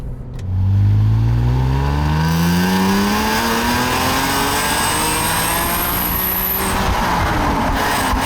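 BMW Z3 M Coupe engine on a twisty test road, loud and close, pulling hard with a steadily rising rev note that climbs through a gear and holds strong, with no voices.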